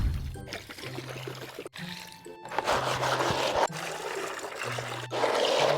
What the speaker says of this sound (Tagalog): Tsaka lalagyan natin siya ng tubig.